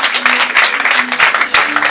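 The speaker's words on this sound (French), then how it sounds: "Est-ce qu'on peut applaudir cette parole?" Audience in a church service breaking into applause, a dense steady wash of clapping filling the room throughout, loud and close with some voices mixed in.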